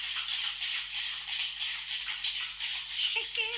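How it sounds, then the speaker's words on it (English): A cocktail shaker holding a Templeton Rye drink is shaken in quick rhythmic bursts, a bright rattling of ice that runs nonstop and close, with a brief voice near the end. "And now we're going to shake it up."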